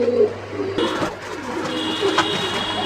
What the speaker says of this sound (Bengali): এইখানেও আরেক জোড়া কবুতর দেখতে পাচ্ছি আমরা